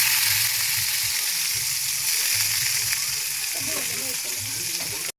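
Onion dropped into hot oil already popping with mustard seeds and cumin, a steady loud sizzle throughout with a low voice murmuring underneath.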